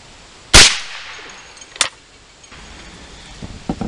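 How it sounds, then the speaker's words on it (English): A Ruger 10/22 rifle fires a sharp, loud shot, followed about a second later by a second, quieter crack, with faint clicks and handling noise afterward. "it seems like it's shooting all the shells just fine now"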